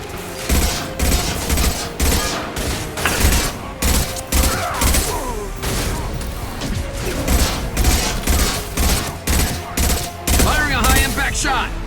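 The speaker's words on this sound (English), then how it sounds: "Firing a high-impact shot!" Rapid bursts of heavy gunfire from a sci-fi shooter video game with a Krogan enemy, dense and loud throughout, with rattling volleys, booming impacts and a voice speaking over the action.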